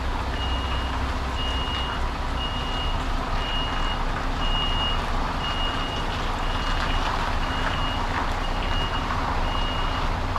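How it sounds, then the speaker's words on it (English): A truck with a trailer reverses steadily, its reversing alarm beeping in a regular repeating rhythm over a constant low diesel engine rumble, close and loud without any talking. "Just need to reverse it down this little section so they can drive it out that way."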